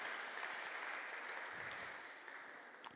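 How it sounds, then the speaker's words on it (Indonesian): Workshop participants at a literature appreciation session clap together in a faint, steady burst of applause that fades slightly toward the end, with no talking over it. "Kita beri tepuk tangan untuk kita semuanya."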